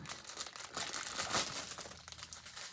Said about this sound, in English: More crinkling.